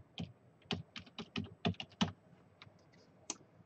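Close, quiet typing on a computer keyboard while entering a user password, with about a dozen irregular key clicks over a few seconds.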